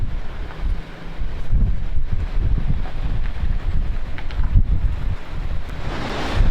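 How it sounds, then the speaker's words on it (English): Strong coastal wind near Pigeon Point buffets the microphone in steady, roaring gusts, with a rumble of surf or water underneath throughout. "But it is very windy."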